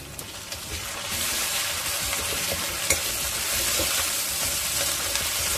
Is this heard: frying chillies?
yes